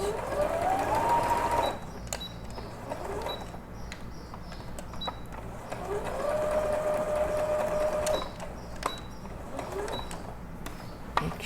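A sewing machine stitching knit fabric scraps into a baby comforter doll, running in a few slowed bursts with pauses between, close and steady with no talk over it.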